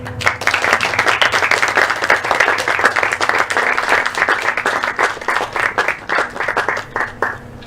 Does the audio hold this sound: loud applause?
yes